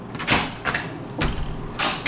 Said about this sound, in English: so when you open the door